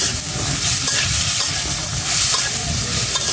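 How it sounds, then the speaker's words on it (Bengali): Vegetables hit a hot kadai and are stirred through, a loud close sizzle with repeated scraping strokes of a spatula against the wok, steady throughout with no talking. "এই যে আমি কড়াইয়ের মধ্যে সবজিটি দিয়ে দিচ্ছি।"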